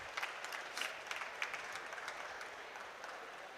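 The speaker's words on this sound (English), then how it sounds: "Can we give him a round of applause?" A round of applause for a winner at a COP27 youth adaptation solutions awards event, continuous crowd clapping with a few sharper, closer claps standing out near the start, fairly loud and steady.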